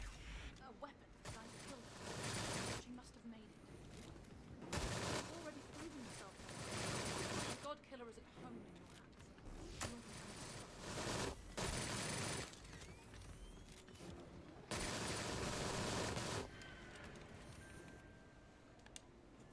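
A PPSh submachine gun fires in the video game Sker Ritual, several long rapid automatic bursts separated by short pauses, loud and close, with game sounds between volleys.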